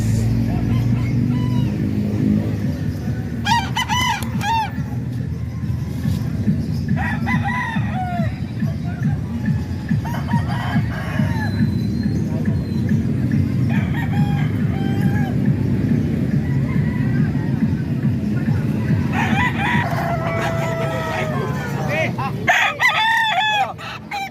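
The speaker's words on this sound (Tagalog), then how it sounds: "Mahal na manok ko yun." A prized rooster crows repeatedly, with several distinct crows spread over the span amid a constant low hum of market babble and other fowl clucking around it.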